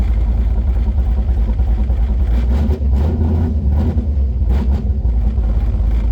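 A 1996 Mustang with a swapped 5.3 LS V8, BTR Stage 2 cam, 4L80E automatic and Holley Terminator X Max, which sometimes leans out, rumbles loudly and close, holding a steady, throaty drone with slight surges in revs throughout.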